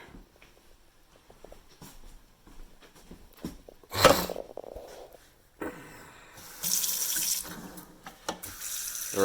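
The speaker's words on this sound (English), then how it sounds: "We're going to fill up slow cooker for a water bath." Tap water runs into a slow cooker at a kitchen sink to make a water bath for yogurt jars, with a loud splashing burst midway and a steady rushing fill toward the end, alone without talk.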